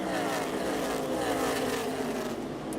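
A NASCAR Xfinity Series race car at Dover spins onto pit road, its engine a loud, steady, close roar with a gradually falling pitch through the whole stretch, no talk over it.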